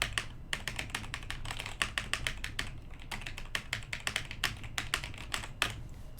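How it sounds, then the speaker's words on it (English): Fast, continuous typing on a mechanical keyboard, dense sharp clacks close to the microphone in a rapid irregular stream, loud and alone with no talking. "Oh boy, what it feels like to get a mechanical keyboard."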